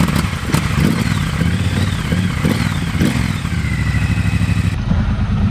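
A motorcycle engine runs close by with a loud, continuous throbbing rumble and some clatter as the bike sets off, with brief higher revving swells throughout.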